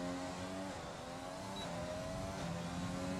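Race car engine droning steadily through a lap in a racing video game, a continuous mid-level whine with shifting harmonics and no break, heard alone.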